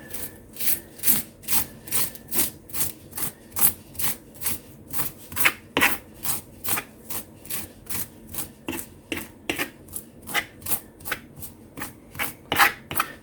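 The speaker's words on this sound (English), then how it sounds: "Now the raking noise is probably going to get loud on my cutting board" Fork tines raking cilantro leaves off their stems on a cutting board, a steady rhythmic series of close, dry scraping strokes, roughly two per second, with no talking.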